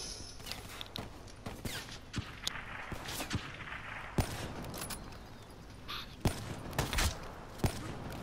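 Gunfire in Call of Duty 2, a string of irregular sharp shots and short bursts at moderate distance over a busy game background, with no talking.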